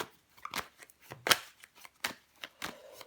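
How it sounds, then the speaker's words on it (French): Tarot cards are handled, shuffled and flipped over on a table in a series of soft, crisp papery slaps and swishes, close and quiet, with no talking. "Je vais recouvrir la carte"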